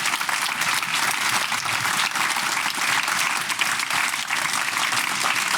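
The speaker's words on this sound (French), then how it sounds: "je voudrais vous demander de faire un tonnerre d'applaudissements pour les équipes marketing qui ont organisé tout ça" Thunderous audience applause for the marketing teams at the Local Marketing Show 2025 in France, a loud, dense, unbroken wall of clapping from a large crowd.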